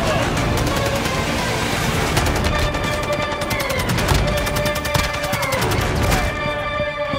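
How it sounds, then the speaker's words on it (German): Dense, continuous gunfire surrounds the listener in a Call of Duty Modern Warfare 2 co-op battle, with rapid overlapping bursts of automatic weapons and scattered crashes, loud and unbroken throughout. "Alter, ich werde von alles beschossen."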